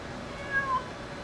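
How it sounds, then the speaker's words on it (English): A single short cat meow, clear and fairly close, over a steady background hum. "Alice, is there a cat in there?"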